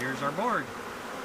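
A honey bee swarm hums quietly around a capture board near a five-frame nuc box in Red Bluff, California, a soft buzzing drone as someone speaks briefly nearby.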